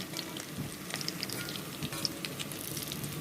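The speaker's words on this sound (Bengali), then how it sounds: "ধিমে আঁচে ভেজে নিচ্ছি।" Chicken kababs frying in a pan over low heat give a steady, close, even sizzle with small crackles and pops throughout, heard alone without any talk.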